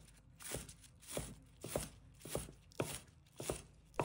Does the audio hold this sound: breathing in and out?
no